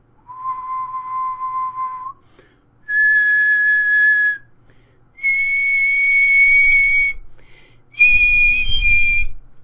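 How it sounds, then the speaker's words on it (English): Someone whistles into a microphone in four clear sustained notes, each held about two seconds and climbing in pitch, with short silences between them and a low thump under the last note. "a much purer audio signal comes from whistling"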